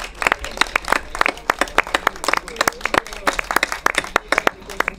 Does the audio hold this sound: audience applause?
yes